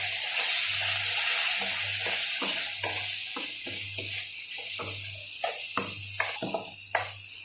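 Spiced tomato masala with egg sizzling in a pan for a raw mango and egg curry, a soft steady fry with repeated spoon scrapes and stirs that grow more frequent toward the end.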